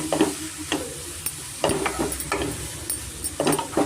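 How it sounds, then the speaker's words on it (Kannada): Grated bottle gourd frying in ghee for halwa, stirred with repeated scraping strokes against the pan over a steady, close sizzle. "ಒಂದು ಎರಡು ನಿಮಿಷ ನಾನು ಚೆನ್ನಾಗಿ ತುಪ್ಪದಲ್ಲೇ ಫ್ರೈ ಮಾಡ್ಕೊತೀನಿ"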